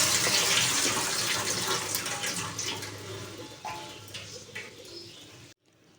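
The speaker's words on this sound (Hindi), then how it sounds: "हल्दी वाला सारा पानी मैंने निकाल दिया है।" Turmeric water drains and splashes from a batch of soaked mint leaves, a steady close trickle that slowly thins and cuts off just before the end.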